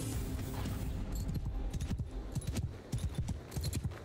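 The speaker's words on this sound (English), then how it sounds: "this horse is slow" Horse hooves clip-clop in Mount & Blade II: Bannerlord with the Eagle Rising Roman mod, a quiet uneven run of soft thuds and clatter over low background rumble, with no talk.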